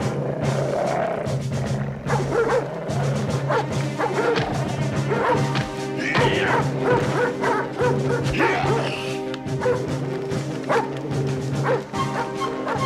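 Dogs bark and yip excitedly in a cartoon, a continuous flurry of barks and whimpers over busy music and effects, loud and close throughout.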